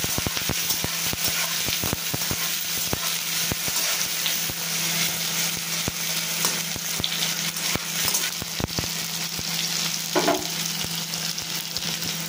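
Steady sizzling of onions frying in a pan, with frequent stirring clicks and scrapes throughout, close by and moderately loud.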